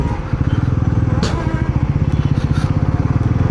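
A Bajaj Pulsar NS400Z motorcycle engine thuds in a fast, even pulse up close, a rhythmic low exhaust beat, with brief wind or rustle bursts over it and a voice speaking briefly.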